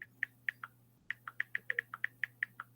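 Computer keyboard keys tap in quick, uneven bursts, sharp clicks close to the microphone over a faint steady hum in a quiet room.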